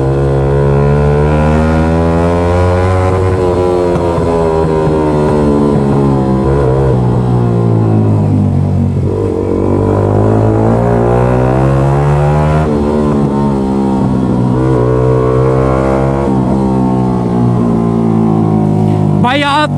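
A Yamaha R15 V3 with a loud SC Project exhaust revs up and down repeatedly in a booming, echoing city ride. The close, sustained engine note rises and falls in waves while a voice talks over it.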